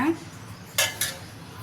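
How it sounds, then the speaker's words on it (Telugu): A metal pan set on a stove before frying ridge gourd, a few sharp clanks and scrapes of cookware close by, with a quiet kitchen background between the knocks. "ఇప్పుడు స్టవ్ వెలిగించి అదే ప్యాన్ పెట్టి దానిలో ఇందులో ఒక 3 స్పూన్ల నూనె వేసుకుందాం"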